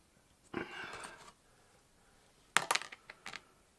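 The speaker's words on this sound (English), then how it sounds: "Been throwing this dice for a while." A single die is thrown and lands on a surface: a short rattling tumble, then after a pause a sharper burst of clattering bounces that settle into a few light taps, close and fairly quiet.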